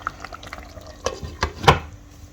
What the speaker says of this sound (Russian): При необходимости добавляем воды.